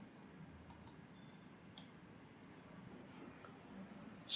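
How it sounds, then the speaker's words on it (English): A computer mouse clicking, two quick faint clicks then a couple more isolated taps over a low steady background hum, close and quiet. "Now click on new node."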